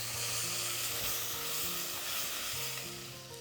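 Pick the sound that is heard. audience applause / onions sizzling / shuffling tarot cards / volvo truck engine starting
onions sizzling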